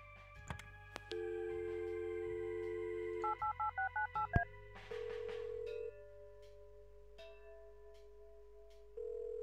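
Telephone dialing in the Kathy Rain video game: a dial tone and a quick run of touch-tone keypad beeps, then ringback tones repeating, clean and electronic with no talking.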